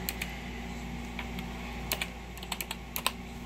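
Typing on a computer keyboard, done with one hand, at a desk beside a Cricut crafting setup: light scattered key clicks that come in small bursts and grow busier toward the end, close by, with no talk.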